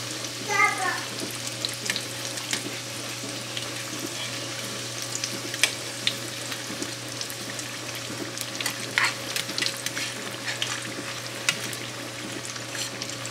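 Beef empanadas fry in a pan with a continuous soft sizzle, broken by scattered crackles and faint clinks as they are turned, steady and close throughout with no voices.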